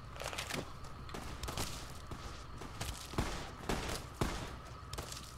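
Weapon gunfire in the video game Fallout New Vegas: a rapid string of sharp shots at an irregular pace over a dense, noisy background of game sound, moderately loud with no voices.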